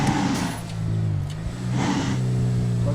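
An Isuzu D-Max 1.9 Ddi pickup, 2018, accelerates hard, its diesel engine rising in pitch through two gear pulls with a brief dip between shifts, steady and close, no talk.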